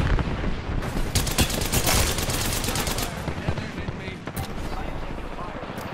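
Dense gunfire in a shooter video game rattles in rapid continuous bursts, loud and sustained with sharp cracks throughout, and no talk over it.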